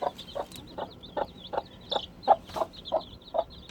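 A broody hen clucks in a steady run of short, close calls, about two or three per second, with faint chirping from her chicks in the background.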